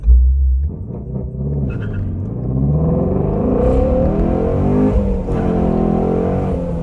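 Ford Mustang GT350 launches from a deep idle rumble, the V8 engine climbing loudly through the revs in a rising, sustained roar heard from inside the car, with a brief shift dip near the end.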